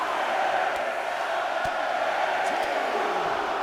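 A virtual arena crowd in the WWE 2K24 wrestling video game, a steady, dense roar of voices with faint rhythmic shouts as the audience counts along, continuous and moderately loud.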